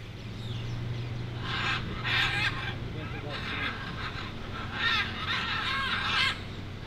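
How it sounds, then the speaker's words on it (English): Wild macaw parrots calling in the Costa Rican jungle, harsh squawking bursts repeating at intervals over steady outdoor background noise. "never did I think I would see wild macaw parrots just flying around freely with one another"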